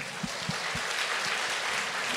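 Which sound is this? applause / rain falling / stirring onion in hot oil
applause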